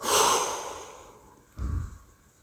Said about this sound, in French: et soufflez fortement pour vous dynamiser